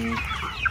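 Chickens on a Filipino poultry farm housing about 500 birds on 300 square meters, short clucking calls nearby under a steady background hum.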